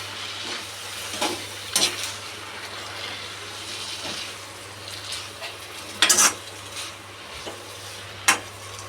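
Noodles are stirred in a sizzling pan, with a steady frying hiss under scraping and occasional sharp metallic clinks from the utensil against the pan.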